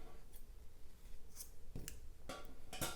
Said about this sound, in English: Cut a little bit off.